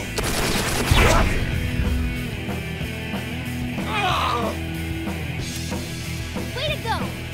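Gunfire attack in the tactics video game Persona 5 Tactica, a burst of shots near the start followed by short crackling bursts, set against steady game music and effects.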